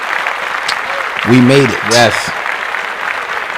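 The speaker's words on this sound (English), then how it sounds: "Let's clap that up." A live podcast audience claps and cheers in a steady broadband wash that lasts the whole moment, while someone speaks over it with brief rising calls.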